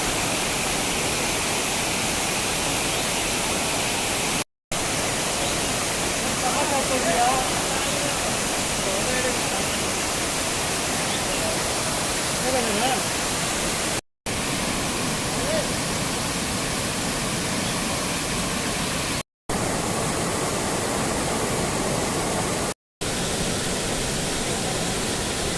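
Benki Falls in the rainy season roars as a steady, full-band rush of falling water, continuous and loud across the whole stretch, broken only by a few brief cuts to silence.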